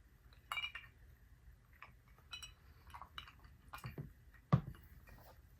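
Glasses clink in a bourbon toast: several light, scattered clinks and taps over a quiet room, with soft handling noises between them.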